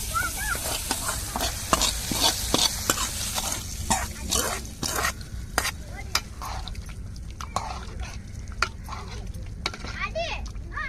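Steady crackling sizzle of hot oil tempering poured into a squid curry, with scattered sharp pops and clinks throughout.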